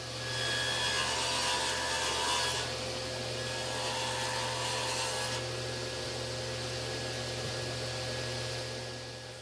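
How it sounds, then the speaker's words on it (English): Table saw blade set at 90 degrees running through a wooden speaker part, cutting a small dado and reveal along the front edge for a console stereo. The steady whining cut holds for most of the span at close range, with no voices. "I put the blade back to 90 degrees on the table saw so that I could cut a small reveal and dado"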